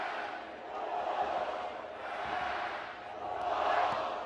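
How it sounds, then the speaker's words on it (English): Big stadium crowd at a men's college soccer cup final between Washington and NC State, singing and chanting in broad swelling waves that rise and fall for several seconds, loud and continuous without distinct voices. "Wolfpack serenaded by the crowd"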